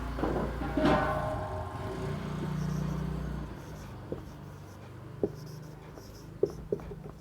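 Chalk or marker writing equations on a board in a Class 10 maths lesson, a scratchy stroke near the start, then a few light taps and short strokes, close and fairly quiet with a faint hum behind.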